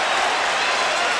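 A boxing arena crowd rising and roaring during a Juan Manuel Marquez vs Juan Diaz fight, a dense, continuous wall of cheering and applause that stays loud throughout the brief moment.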